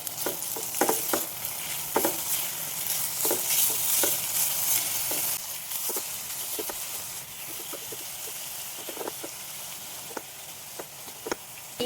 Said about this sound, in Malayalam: ഒന്ന് മെൽറ്റ് ആയി കഴിയുമ്പോഴത്തേക്കും നമുക്ക് തേങ്ങ ഇട്ട് കൊടുക്കാം.